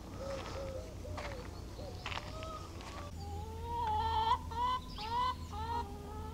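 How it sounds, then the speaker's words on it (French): Hens inside a small henhouse cluck and call, first a few scattered soft clucks, then a run of louder drawn-out calls close by over a low background hum. "Tu vois les poules, dans 9 mètres carrés, même enfermées dans un poulailler, elles sont heureuses, elles chantent"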